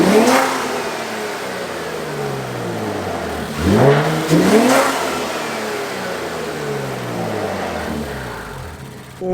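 An Infiniti Q50 fitted with aftermarket intakes revs hard, its engine note sweeping up and down through several loud throttle blips before settling back toward idle, close and with no talk.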